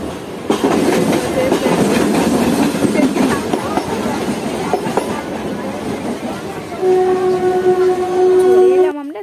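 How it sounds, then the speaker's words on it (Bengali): A train arriving at Dum Dum station rumbles and clatters along the rails, wheels clicking, then brakes whine and squeal as it slows, with voices faintly in the background. "চলে এলো আমাদের ট্রেন এবার উঠবো ট্রেনে"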